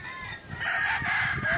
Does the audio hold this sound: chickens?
yes